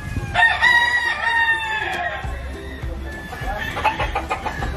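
Caged fighting cocks on a Basilan farm of purebred Jolojano native chickens crow loudly and close, with drawn-out calls overlapping clucking from several birds and soft farmyard background noise.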